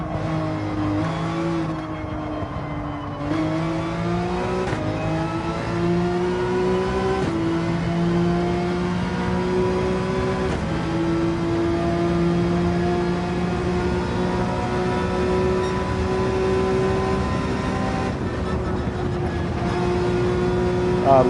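Porsche 911 race car in Gran Turismo 7, its engine droning steadily at high revs with rising tones through gear changes, loud and continuous throughout with no talk.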